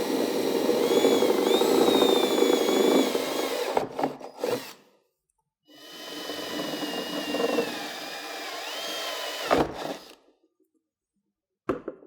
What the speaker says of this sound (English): As we're drilling our holes in our visor, be sure not to drill too deep